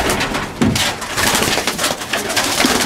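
Pigeons cooing close by, soft repeated low coos in an uneven rhythm over a rustling background, with several birds present and no talking.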